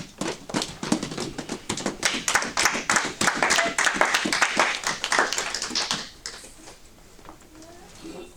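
A church congregation claps to acclaim the Lord: dense, loud, rhythmic applause from many hands for about six seconds, then tapering off abruptly into quieter scattered sounds.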